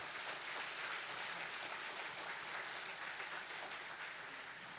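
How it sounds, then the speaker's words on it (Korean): Dense, steady applause from a large church congregation during a Sunday service, sustained and even for several seconds with no voices standing out. "힘찬 우리 격려의 박수 한번 보내겠습니다"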